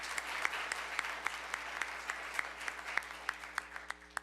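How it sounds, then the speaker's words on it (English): Audience applause at a disability employment awareness celebration, a steady, dense wash of many hands clapping with some sharper claps standing out, going on for the whole stretch. "Let's give her a round of applause."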